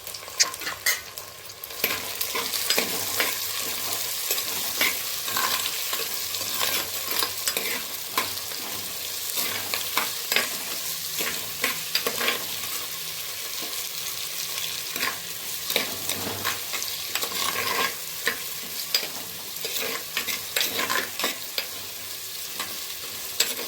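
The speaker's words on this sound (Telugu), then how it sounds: "ఇప్పుడైతే టమాటాలు వేసేసుకుంటాను, అవి కూడా మగ్గాలని." Tomatoes sizzle in a clay pot for crab curry while a spoon stirs them, giving a steady close frying hiss broken by frequent scraping clicks throughout.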